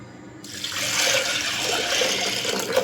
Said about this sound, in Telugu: ఒక చెంబడు వాటర్ పోసుకోవాలి,